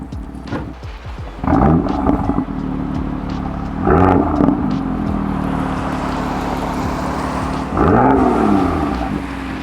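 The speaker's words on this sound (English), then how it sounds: "Standard exhaust sounds pretty slick." A BMW M2 with its standard exhaust revs three times over a steady low idle, each rise swelling loud and close before settling back.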